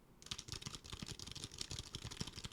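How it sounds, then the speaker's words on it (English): Rapid, steady keystrokes clatter on a Logitech K800 computer keyboard, close and fairly quiet, with no voices. "And then now you can hear the Logitech K800."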